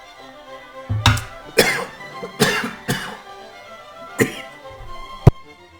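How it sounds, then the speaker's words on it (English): Several harsh coughs in quick bursts, close and loud, with a pause before a final sharp cough. "While reflecting, I was coughing instead."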